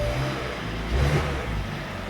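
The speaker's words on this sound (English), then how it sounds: "So right there, as you can hear, the engine is running" Hyundai Sonata engine idling rough with a check engine fault (codes P0011 and P2006), heard as a steady low rumble that swells briefly near the middle and stays close and moderately loud, with no talking.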